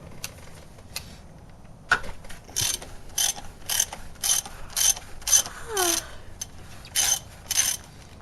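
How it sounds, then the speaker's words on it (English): A ratchet clicks in quick bursts while loosening the 24 mm oil filter housing on a 2014 Dodge Durango Limited V6, several rapid ratcheting strokes close up with short pauses between them, no talking. "Just loosen it and let it drain for a little while."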